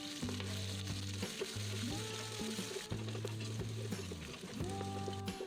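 Two chopped onions fry in a pressure cooker for tomato rice, giving a steady close sizzle with scrapes and clinks of stirring beneath strong sustained tonal layers.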